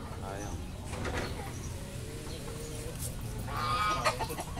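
Light Sussex chickens cluck in a steady run of short calls close to the recorder, with people talking over them.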